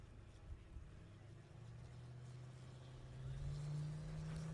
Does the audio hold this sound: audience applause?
no